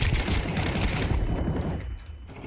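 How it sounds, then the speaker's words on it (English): A flashbang grenade detonating in a video game: a loud, dense burst of noise filling the first second, then dropping away into a quieter ringing tail. "Deploying flashbang."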